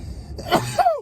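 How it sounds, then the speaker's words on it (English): A quick sneeze from a bearded man, a brief noisy burst then a short voiced tail, close and clear with no talk over it. "Why am I sneezing so much?"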